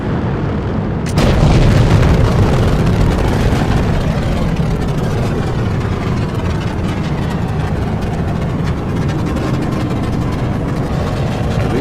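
Rocket engines igniting at launch: a sudden onset into a loud, continuous deep roar and rumble that holds steady throughout, with no voices.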